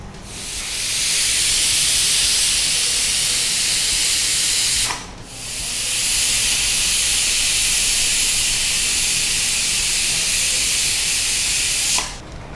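A pressure cooker vents steam in a cooking-show kitchen: a loud, close, steady hiss that drops out for a moment midway, surges back just as strongly, and cuts off briefly near the end, with no talking over it.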